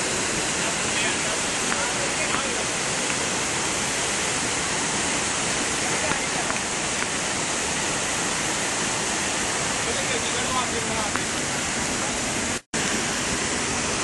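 A waterfall pours over rocky ledges on a hillside in Palakkad district, Kerala, making a dense, continuous rushing roar that stays loud and even throughout, with no other sounds breaking through.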